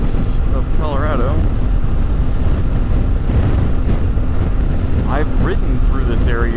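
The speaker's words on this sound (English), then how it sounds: "It's a little windy." Strong, steady wind roars across the microphone while riding a motorcycle through the Spanish Peaks of Colorado on the Trans-America Trail, constant and loud with brief snatches of voice underneath.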